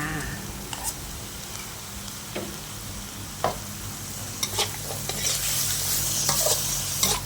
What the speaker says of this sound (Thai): นี่นะคะก็ผัดให้เข้ากันแบบนี้เลย